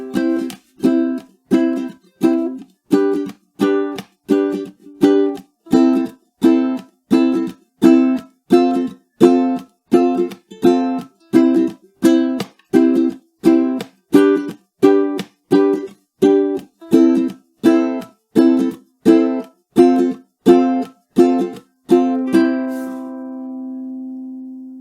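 A ukulele is strummed in a steady, even rhythm through a chord progression, ending on one final chord left ringing.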